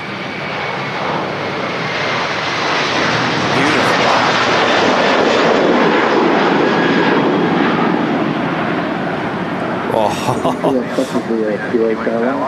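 A Kuwaiti airliner at Manchester Airport roars loud and close as its engines rumble steadily, a broad deep drone heard from a spotting tower, with people talking over it near the end.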